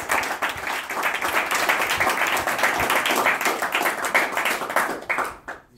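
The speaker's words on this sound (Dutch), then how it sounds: "wel graag even een applaus voor haar willen," Lively audience applause at an award ceremony, loud dense clapping from a crowd that runs strongly for several seconds and then quickly dies away at the end.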